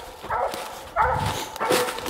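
A Bluetick Coonhound bays at a raccoon treed on a moonlit night hunt, giving three long, drawn-out howling calls spaced about evenly, moderately close and alone.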